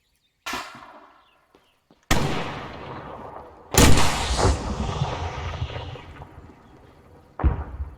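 Rocket impact explosions during a military detachment training exercise: one sharp blast followed by two heavier booming detonations with long rumbling decay, then a fourth shorter bang, loud and carrying across open ground.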